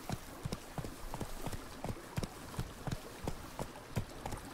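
Horse hooves clip-clop at a steady trotting rhythm on a riding outing in The Witcher 3: Wild Hunt, Blood and Wine, with evenly spaced, fairly close hoof strikes throughout.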